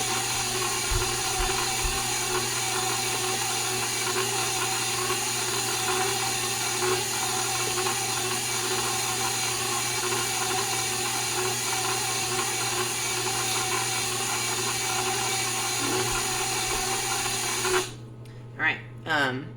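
A stand mixer kneads honey oat bread dough in a steady, loud mechanical whir with a constant grinding hum that continues unbroken before cutting off near the end.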